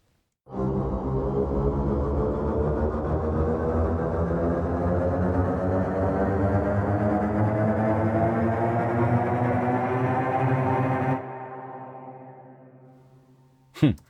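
A sustained, bowed sampled cello tone with pitch bend holds steadily with rich harmonics for about ten seconds, then drops to a quieter, thinner tail that fades out.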